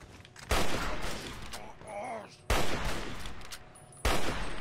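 Gunfire in the Fallout 3 video game: three loud, sharp bursts of shots land about every two seconds, each trailing into a lingering rumble, with a brief whistling tone in between.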